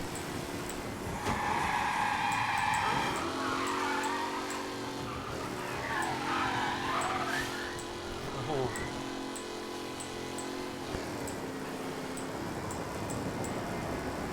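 A race car in the video game Mafia: Definitive Edition revs and skids, with tire squeal and engine roar rising and fading over about fourteen seconds while a voice sounds faintly underneath.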